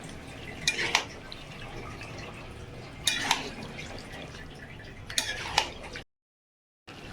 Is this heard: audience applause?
no